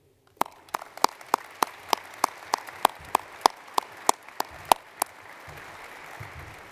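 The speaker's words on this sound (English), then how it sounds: "why don't we start off here with a really strong round of applause for the audience and for your families" Slow, evenly spaced claps ring out at a university graduation ceremony, about fifteen sharp hand claps in a steady rhythm before stopping, sparse and clear against a quiet hall.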